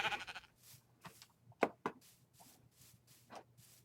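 Sheep in Minecraft bleat several times in short, separate calls, moderately close, with brief sharp clicks partway through and faint background noise.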